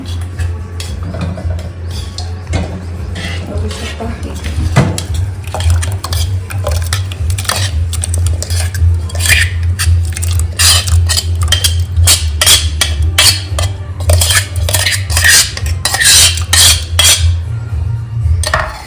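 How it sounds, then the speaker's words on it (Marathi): Rice kheer being stirred in milk in a pot, with a spoon or ladle repeatedly scraping and clinking against the metal over a steady low hum, continuous through the whole stretch. "लगेच मिक्स करून घ्यायचे कारण त्याच्यातच ते घट्ट होतं त्याच्यामुळे असं हलवत राहायचं आहे"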